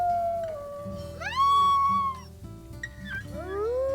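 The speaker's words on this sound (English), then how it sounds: "Let's go ahead and do our little morning howl" Wolves howl in the video game WolfQuest during a morning pack howl, with several long overlapping rising and falling howls over steady background game music.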